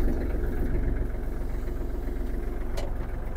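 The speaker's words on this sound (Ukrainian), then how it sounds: "Двигуну дамо трохи прогрітись" A small Kubota GL-320 mini tractor diesel engine idles steadily nearby, a low rhythmic chugging rumble with faint rattling vibration and no voices.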